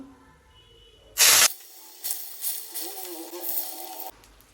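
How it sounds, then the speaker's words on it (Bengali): Brinjal pieces go into hot oil in a wok with a sudden loud burst of hissing spatter, then settle into an uneven, softer sizzle that rises and falls before stopping. "কড়াই গরম হয়ে গেছে তারপর আমি দিয়ে দিয়েছি তেল এখন আমি বেগুনটা সবার আগে ভেজে নেব"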